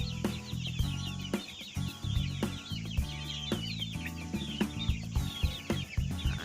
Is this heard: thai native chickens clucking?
yes